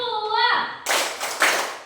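A class of children claps on command, giving three quick bursts of hand claps in a room. A voice speaks just before the claps.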